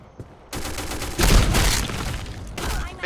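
A burst of rapid gunfire in the video game Black Squad crackles loudly, with sustained automatic shots and booms filling most of the short stretch.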